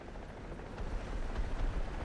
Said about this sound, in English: we do have to be careful about this helicopter